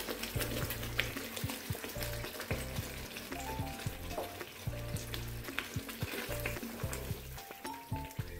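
Boiled pumpkin paste frying in plenty of ghee in a wok over medium heat, a steady close sizzle with repeated scraping stir strokes throughout, no voices.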